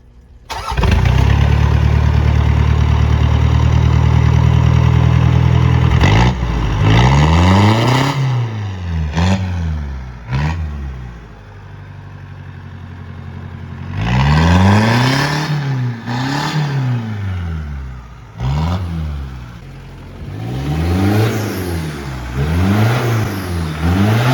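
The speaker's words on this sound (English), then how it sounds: "Now we're gonna take it out and listen to the exhaust and the intake and see if it sounds any different." A Mitsubishi Pajero turbo diesel with a straight pipe exhaust and new intake starts with a long loud crank-and-catch, then idles and is revved in repeated sharp bursts that rise and fall, close and loud.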